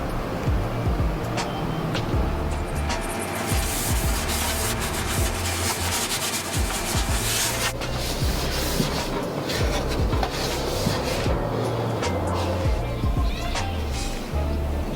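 Continuous scrubbing and rubbing as oil is worked into the inside of a Char-Griller Gravity Fed 980 smoker to season it, a steady rough friction sound with intermittent knocks and a voice talking over it.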